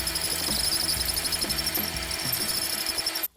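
A drill bit bores a hole in a workpiece on a TSB 20 lathe, a steady metallic whirring grind with rhythmic pulsing that cuts off abruptly just before the end.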